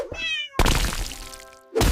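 A cartoon cat meows clearly, followed by a thump and a longer, drawn-out meow, close and loud.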